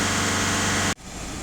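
A Skoda Octavia 1.6 TDI diesel engine runs during a check before cleaning its DPF emissions system, a loud, steady droning hum that suddenly drops off and settles into a quieter, lower running sound.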